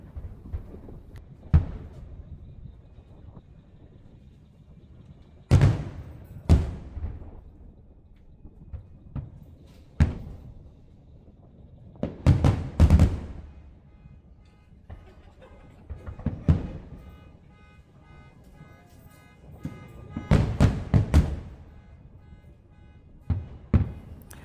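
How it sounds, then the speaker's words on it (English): Magic Kingdom fireworks at Walt Disney World heard from afar: irregular booms and thuds, some single and some in quick clusters, rise out of a quiet background over about twenty-five seconds. "the big fireworks you can see at Magic Kingdom"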